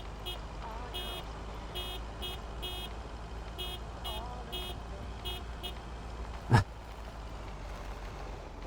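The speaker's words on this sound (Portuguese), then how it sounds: "Vamos buzinar uma música de Natal" A car horn in the video game Lake tooting a Christmas tune in a rhythmic series of short honks, heard over steady road and engine noise, followed by one sharp louder knock.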